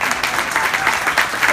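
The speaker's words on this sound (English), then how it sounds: "I've actually never been applauded for being a Catholic." A town hall audience in Carson City breaks into steady, dense applause that fills the room, loud and continuous throughout without a break.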